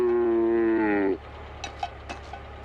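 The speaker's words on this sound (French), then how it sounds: "Des vaches mutantes?" Cows mooing, including one long, strong, harmonic moo that ends abruptly, followed by quiet background with faint clicks and knocks.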